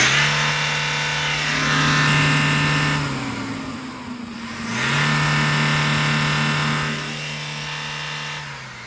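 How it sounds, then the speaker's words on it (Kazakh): A 2021 Hyundai Porter van's engine, with manual transmission, revs up twice, rising to a loud steady roar and dropping back to idle in between. "Азыр моторду бир тартып кетти."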